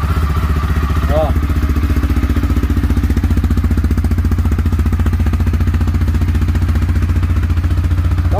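A 2020 CFMOTO Cforce 520L quad bike idles with a steady, even throb that is close and constant, while someone speaks briefly over it.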